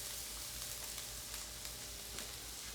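Onions going into a hot pan alongside cooking eggs, giving a steady, close sizzle with fine crackling spread evenly throughout and no talking.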